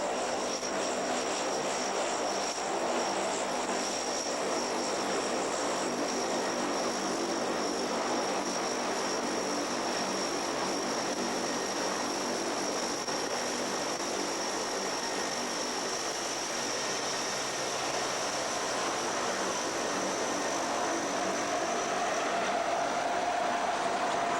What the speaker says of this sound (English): if you'll direct your attention down to the right on takeoff roll in that beautiful red and white Pitts S-1A, Miss Bridget D. St. Val